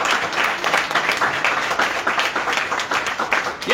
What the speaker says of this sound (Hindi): ये ताली की आवाज परमेश्वर के कानों में जा रही है, ये ताली की आवाज परमेश्वर सुनता है